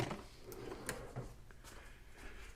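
A workshop drawer slides open or shut during a search for needle nose pliers while cleaning a 40 IDF carburetor on a Porsche 914, giving a few close wooden clunks and rattles with no voices.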